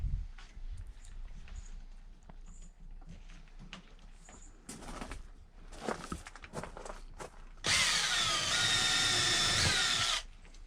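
Power drill driving a screw into RV corner roof trim on a full-height teardrop trailer build, a loud sustained whir of about three seconds near the end after quiet handling noises and a few short bursts.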